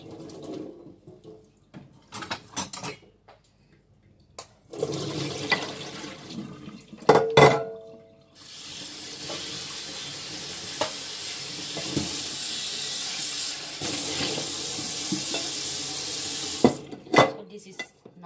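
Fresh berries rinsed under a running kitchen tap, water hissing steadily into the sink for long stretches with brief stops, handling clatter and a splashy burst along the way.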